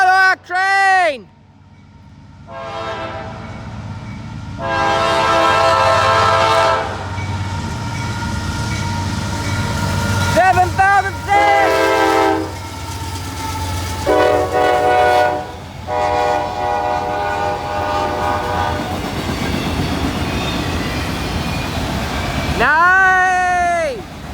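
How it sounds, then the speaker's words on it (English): A CSX unit auto train passes at night through Folkston, its horn sounding in repeated loud blasts over the sustained rumble and roar of the railcars rolling by close at hand. "Finally, an auto train!"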